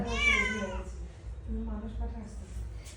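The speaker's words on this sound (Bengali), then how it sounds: "দেখো কি খুশি বিড়ালটা" A happy cat meows in a house, a drawn-out rising call followed by a second shorter meow, close and fairly clear with faint room noise and a voice nearby.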